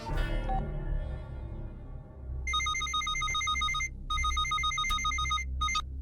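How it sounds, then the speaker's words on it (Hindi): A telephone rings on an outgoing call in a Hindi film scene. After a low rumbling start, a bright electronic ringing tone comes in repeated bursts with short gaps, loud and steady over a faint background hum. "सर, मैं शिंदे को फोन लगाता हूं।"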